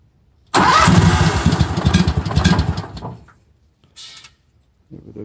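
A Pow-R Mole PD-4 directional drill engine fires up abruptly and runs loud for a couple of seconds with a rough, sputtering roar, then cuts out, followed by a brief clatter and a short restart attempt.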